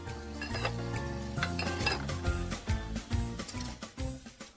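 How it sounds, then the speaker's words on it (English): Dishes being washed and rinsed, clattering pots, plates and cutlery clinking and scraping in bursts over a few seconds, fairly close and busy, without speech. "rinse the dishes"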